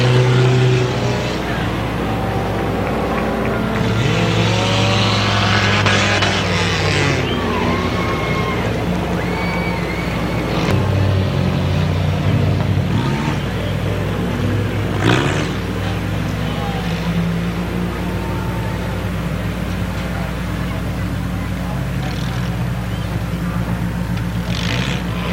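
Race cars roar around Columbus Motor Speedway during the main event, loud engines surging and passing close by over a sustained rumble, with a crowd and a voice on the public address heard beneath them.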